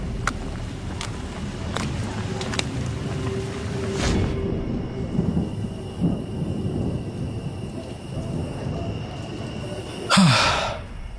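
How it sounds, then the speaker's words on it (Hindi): Unseasonal rain pours steadily during a thunderstorm, with a low rumble of thunder swelling near the middle and a sharp crack close by toward the end. "ऊपर से ये बेमौसम बारिश"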